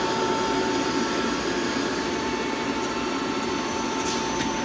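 A Nakamura TW-10MM CNC multi-axis turning machine running its program, giving a steady whirring hum with a constant tonal whine and faint mechanical clicks near the end, no voices.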